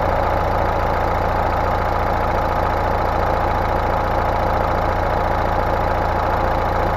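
A vehicle engine idles steadily throughout a battery and alternator charging test, a constant loud low rumble with even mechanical pulsing and no voices.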